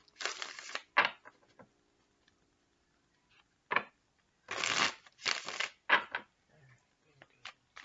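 Guidance cards being shuffled by hand in several separate riffling bursts, close and fairly loud, with short quiet gaps between them and no talking.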